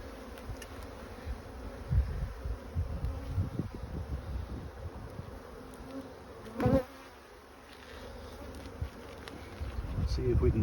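A swarm of honeybees buzzes in a dense, continuous hum close by, with individual bees droning past and a person speaking softly now and then.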